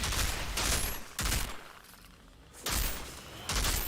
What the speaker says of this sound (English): the snipers just actually shoot me in the face